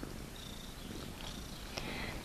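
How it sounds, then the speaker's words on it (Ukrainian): Close, steady purring from a cat, a low rolling rumble that keeps an even rhythm throughout, faint overall and with no voices present. "І тепер постійно вона муркає дуже."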